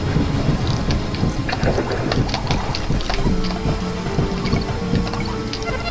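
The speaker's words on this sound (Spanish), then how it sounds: "hay que evitar que nos toque la tormenta" Storm sound effects from the Donkey Kong Country video game: a dense, steady roar of rain-like noise with crackling thunder bursts, loud and continuous throughout, with no talking.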